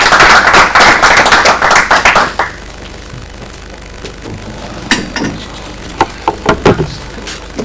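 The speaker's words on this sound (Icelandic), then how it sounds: "Gefa honum gott klapp." Audience clapping at an annual association meeting, a dense burst of applause that stops after about two seconds, followed by a few isolated knocks and handling sounds in a quieter room.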